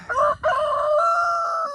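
A large meat-breed rooster crows close by, a loud drawn-out cock-a-doodle-doo after a short broken opening note, clear and alone.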